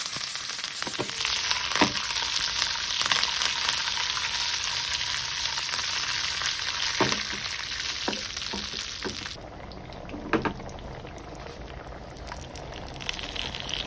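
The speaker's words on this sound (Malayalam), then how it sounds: "ഇനി കറിവേപ്പില ആവശ്യത്തിന് ചേർത്ത് തീ ചെയ്യാം" Curry leaves, fenugreek and chopped dried chillies sizzle loudly and steadily in hot oil for a curry tempering, then the hiss eases partway through, with a few clinks and no talking.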